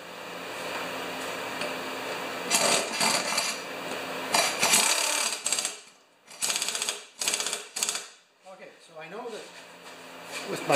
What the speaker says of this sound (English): With my long ratchet, I should be able to just get a small turn on.